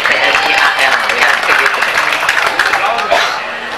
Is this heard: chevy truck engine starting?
no